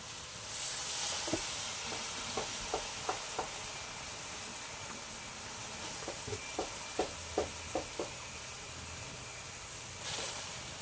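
Kangkong (water spinach) sizzles steadily in a hot pan while cooking adobong kangkong, with a soft constant hiss and scattered light pops and clinks of stirring throughout.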